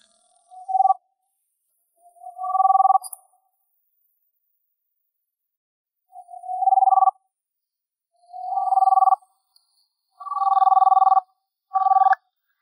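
A telephone rings in a Chinese drama scene, six separate electronic ring bursts spaced out over the stretch with silence between them, clear and fairly loud with no talking.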